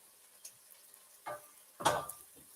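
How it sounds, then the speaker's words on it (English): A few short stirs scrape through vegetables cooking down in a pan for creamy lemon garlic pasta, faint soft scuffs and brief sizzles spaced apart in a quiet room. "let me give this a stir again. Make sure these are cooked down a little bit."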